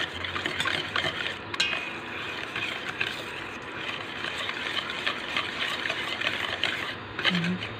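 Banana cake batter is stirred in a bowl with faint, continuous scraping and sloshing, fairly quiet, with talking over it in places.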